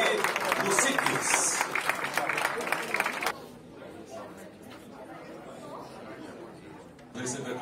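A crowd at the Abilux 2019 awards ceremony claps and chatters loudly for about three seconds, then softer murmuring, with clapping picking up again near the end.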